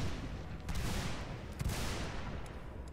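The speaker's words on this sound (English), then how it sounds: "Guys, hear the sounds of these guns." Gunfire in a Roblox battle game raid on Fort Sumter, a faint volley of distant overlapping shots and a couple of sharper cracks over steady background noise.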